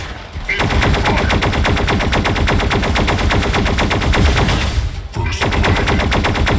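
Rapid automatic gunfire rattles loudly and almost continuously in the Mech Arena free-for-all game, dense bursts broken by one brief gap near the end.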